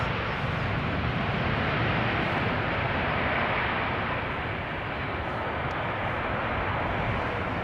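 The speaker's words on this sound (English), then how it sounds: "It is Silkway West Airlines arriving from Baku." Silkway West Airlines Boeing 747 arriving at Schiphol Airport, a steady loud broadband jet engine roar that holds throughout with little change, no voices over it.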